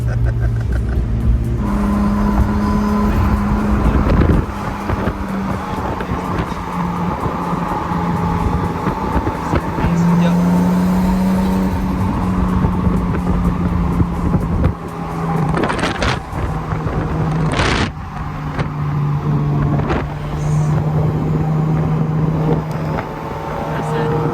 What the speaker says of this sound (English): she learned how to drive manual trans, and she is doing fantastic